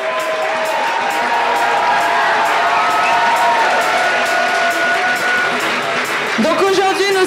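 Audience applause and cheering at a group cosplay contest at Japan Impact 2020 fill the room continuously, dense and loud, with a speaking voice over the crowd.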